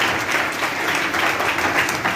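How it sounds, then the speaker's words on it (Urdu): A church congregation claps together during a sermon, a dense, continuous burst of applause heard alone and fairly loud. "اب تالیاں بجائیں گے"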